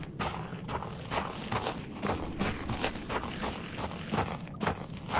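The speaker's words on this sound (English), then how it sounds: "I hear footsteps come from all directions." Footsteps in the horror co-op video game Content Warning, a quick run of soft repeated steps over a steady noisy background, fairly close and continuous, with no talking.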